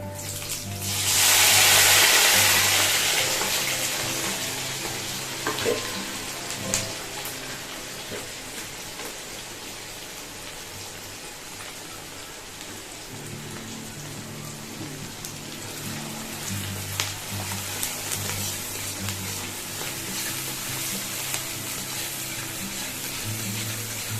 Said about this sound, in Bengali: এবার এটাকে একটু ফ্রাই করবো, ভালো করে ডিপ ফ্রাই করবো